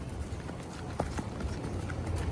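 A herd of goats runs out to pasture, many small hooves clattering in a steady patter against loud outdoor wind and background noise.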